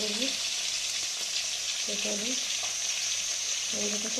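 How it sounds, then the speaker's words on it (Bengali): Fish frying in a pan for a spicy Bengali fish dish gives a steady, even sizzle throughout, with a few faint tonal clinks from the kitchen in the background. "এরকম মাছ ভাজতে দিয়েছি মাছটা ঝাল"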